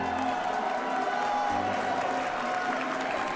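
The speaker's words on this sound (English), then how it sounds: "Let's get a round of applause." Applause and cheering from the crowd at the Pokémon World Championships 2025 Top 4 as the first finalist is introduced, a dense, steady wash of clapping with scattered whoops throughout.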